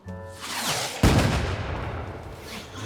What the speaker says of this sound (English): Since when did we add fireworks to the show?